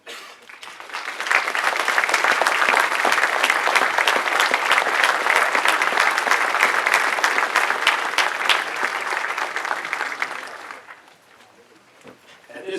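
Sustained applause from family members and attendees at a military ALS graduation ceremony, a dense even roar of many hands clapping for about ten seconds before tapering off.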